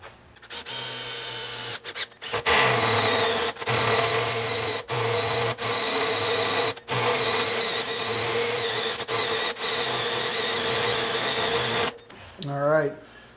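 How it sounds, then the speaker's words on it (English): A carbide hole saw drills a hole during a Panhead motorcycle build, a loud, steady mechanical grinding that runs for over ten seconds with brief pauses, then stops. "we're gonna go ahead and get our hole drilled here. Use these carbide hole saws."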